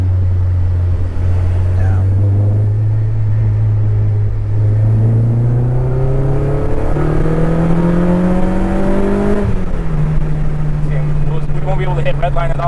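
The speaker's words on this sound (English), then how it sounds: "That exhaust is nice on street. Oh yeah. Yeah, it's not overpowering. It has a really nice tone to it." Exhaust of a 2007 Honda Civic Si climbing steadily in pitch as the engine revs, a loud, close, smooth tone that drops back once, with people talking over it.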